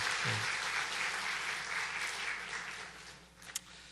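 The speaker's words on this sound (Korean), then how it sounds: "우리 박수로 위로의 뜻을 표해 주시기 바랍니다." A church congregation at a Sunday worship service claps in sympathy for a bereaved family, a soft, distant, continuous patter of many hands that gradually fades toward the end.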